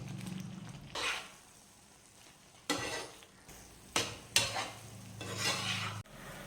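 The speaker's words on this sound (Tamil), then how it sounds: "இதை நல்லா நம்ம வந்துட்டு கிளறி விடணும், இல்லாட்டி கட்டி கட்டியாக பிடிச்சிடும்." Vegetable rava kichadi being stirred in a pan, several separate bursts of scraping stirring against the pan between quieter stretches of soft cooking sound.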